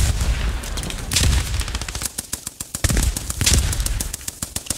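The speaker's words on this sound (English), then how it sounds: "I'm gonna put covering fire down for you guys." Covering gunfire in the Post Scriptum video game, rapid bursts of close machine-gun shots in dense rhythmic volleys, with heavier booming reports mixed in and brief pauses between bursts.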